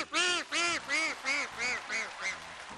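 A performer of traditional Chinese vocal mimicry imitates a duck's quacking with his voice, six loud, evenly spaced nasal quacks close up with no other sound.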